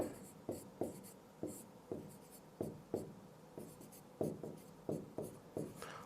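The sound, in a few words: writing a name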